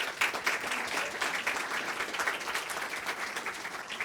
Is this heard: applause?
yes